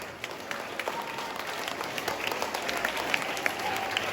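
Schoolchildren at a government high school clap steadily together, a continuous patter of many hands filling the hall at moderate volume with no break.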